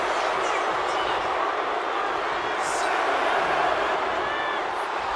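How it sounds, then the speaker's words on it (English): A video game wrestling crowd in WWE 2K25 keeps up a dense, steady roar of cheering during a Rhea Ripley versus Dominik Mysterio match, with a few brief whistles and shouts rising from the sustained wash. "And Rhea is revving this crowd up."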